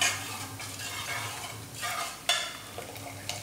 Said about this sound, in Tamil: ஆன் பண்ணிவிட்டு இதை சும்மா ஒரு வாட்டி ஒரு கடை கடைஞ்சி விட்டுக்கலாம்.